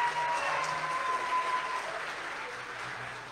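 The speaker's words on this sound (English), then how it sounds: "let's give them a hand clap." Parents and guests at a church Vacation Bible School give a round of hand clapping after the children's class presentations, a moderate, steady patter that gradually thins toward the end.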